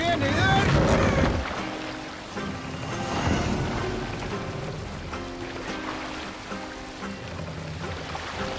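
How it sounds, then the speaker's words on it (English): A sailing longship in Assassin's Creed Valhalla gameplay, rushing wind and water washing steadily while game voices and music-like tones sound over it. "Raise the mast! Sail! Catch the wind!"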